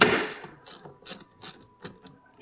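A ratchet wrench loosens a 10 millimeter battery terminal nut on a 2012 Chevrolet Silverado, with a sharp knock followed by four spaced, close ratcheting clicks.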